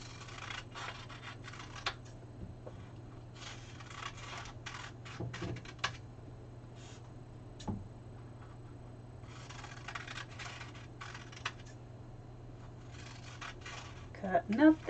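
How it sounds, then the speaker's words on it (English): Scissors snip through paper as names are cut apart for a giveaway drawing, giving a quiet run of short scratchy cuts and rustles over a steady low hum, with a louder crinkle near the end. "Cutting up the names for the drawing."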